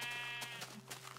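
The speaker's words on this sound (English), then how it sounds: "Now, the sheep are kind of cramped" A sheep bleating in Minecraft on Xbox, a single wavering bleat heard close and clear over a quiet background.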